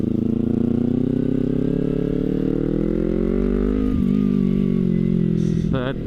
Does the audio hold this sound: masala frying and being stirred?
no